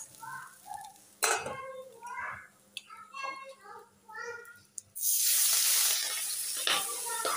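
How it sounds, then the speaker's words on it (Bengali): Katla fish fries in hot oil, giving a loud, steady sizzle that begins after a stretch of someone talking over faint kitchen clatter and then continues close and sustained to the end. "এখানে হচ্ছে রুই মাছ ভাজি করছি"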